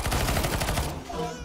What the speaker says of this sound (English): PP Bizon! I love this gun.